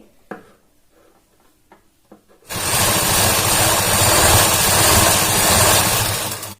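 A sewing machine stitches fabric for a handmade bra strap, starting with a burst of rapid, even mechanical whirring after a few quiet taps. It runs loud and close, with no talk over it.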